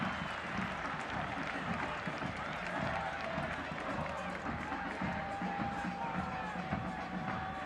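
A football stadium crowd at a San Diego Loyal SC versus Phoenix Rising FC soccer match makes a steady, dense roar with scattered cheers and claps throughout, and a commentator talks over it.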